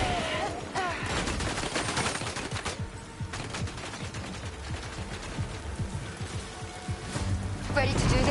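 Heavy automatic gunfire in the Death Stranding 2 video game, a loud dense fusillade of shots continuing throughout with voices speaking over it.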